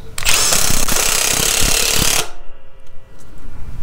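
Skil and Milwaukee brushless impact drivers run side by side in a loud, rattling whine with rapid hammering pulses, then cut out abruptly, leaving a quieter lingering buzz.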